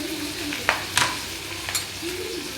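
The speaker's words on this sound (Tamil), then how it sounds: "அதையும் நாம் இதுக்குள்ளேயே ஆட் பண்ணிக்கிட்டு நல்லா ஃப்ரை பண்ணிக்கணும்" Chopped tomatoes fry in hot oil for a restaurant-style veg kurma, a soft continuous sizzle broken by a few sharp scrapes and clinks of a spoon stirring the pan.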